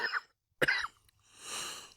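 A couple of harsh, hollow coughs, close and fairly quiet, followed by a breathy, rasping exhale.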